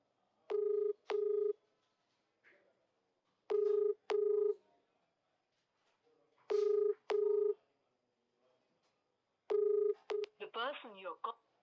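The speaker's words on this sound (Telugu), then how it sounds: "నేను ఇప్పుడు ఒక అక్కకు ఫోన్ చేస్తా" Phone keypad tones sound in paired beeps, four pairs spaced a few seconds apart, clear and close, with a brief ringing or voice-like tone trailing after the last pair.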